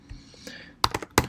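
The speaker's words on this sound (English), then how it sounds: "I could also type in the email address" Typing on a computer keyboard, a few quiet scattered taps followed by a short burst of sharper, closer clicks.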